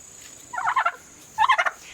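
A free-range tom turkey in a chicken coop gobbles twice in quick succession, each call a rapid rattling burst, fairly close, with quiet pauses in between.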